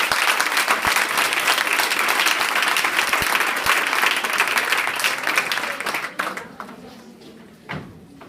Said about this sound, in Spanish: Os pido un aplauso muy grande